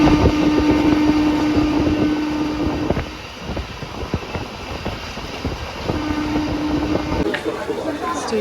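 A passenger train pulling into a busy station, a loud steady rumble of wheels and rail noise with a sustained tonal hum, easing briefly midway and continuing to the end amid station bustle.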